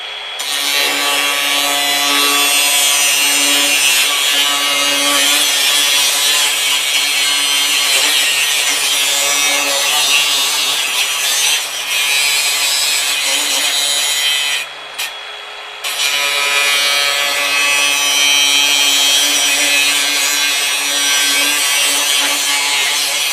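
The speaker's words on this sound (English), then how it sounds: "let's cut it with the abrasive wheel" An abrasive cutting wheel grinds through steel in one loud, sustained cut with a steady high hiss, briefly breaking off near the middle and then resuming, with no talking.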